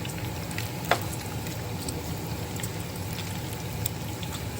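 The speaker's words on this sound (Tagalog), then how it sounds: "pinagluluto ko sila ng bacon for breakfast" Bacon fries for breakfast in a pan, an even, continuous sizzle and patter with a few sharper pops standing out, steady and close with no voices.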